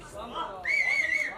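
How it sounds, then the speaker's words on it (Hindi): A crowd at a celebrity cruise launch event whistles, one sharp wavering whistle rising above a murmur of chatter and voices, fairly near. "दोस्तों सीटी बजाओ उनके लिए,"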